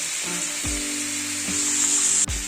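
Cauliflower and potato fry in a pan in a home kitchen, a steady close sizzle with a few clinks of a utensil against the pan as the pieces are stirred.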